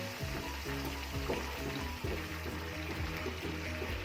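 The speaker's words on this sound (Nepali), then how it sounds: "अब पानी राखिदियो यसमा थोरै" Meatball chilli sizzles and crackles in a pan just after a little water is added, a steady close frying hiss with sputtering pops throughout.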